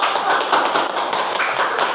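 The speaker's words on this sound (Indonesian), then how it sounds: "Oke, kita beri tepuk tangan dulu." A classroom of students claps together in dense, fast, continuous applause, close and fairly loud, with no talking over it.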